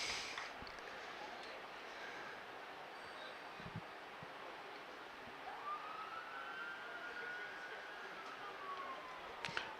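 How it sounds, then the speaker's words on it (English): Faint distant siren wailing from a main road near a cricket ground in Chelmsford city centre, a rising and falling tone over steady outdoor background noise with occasional soft thuds. "You might hear that siren. It gives you an idea of how close we are to the main road on the city centre"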